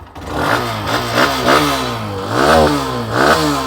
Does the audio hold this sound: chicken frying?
no